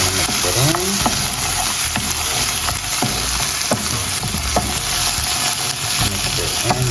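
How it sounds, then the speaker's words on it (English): Coconut milk sauce simmering in a pot is stirred in, with a steady bubbling sizzle and scattered scraping, clicking spoon strokes, close and fairly loud with no voice. "So I'm just gonna add some coconut milk, and I'm gonna just let that simmer. So we're gonna mix it in."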